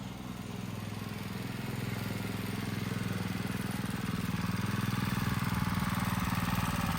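A custom mini street bike with a stage 1 motor and governor delete rides past, its small engine droning steadily and close, slowly growing louder with no talk over it.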